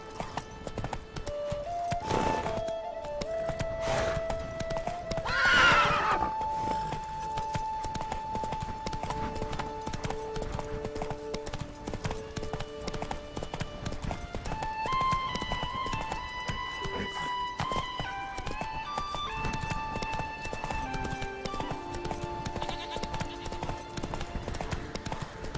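Roach, the horse in Witcher 3, galloping with fast continuous hoofbeats and a brief whinny early on, over game music and ambience.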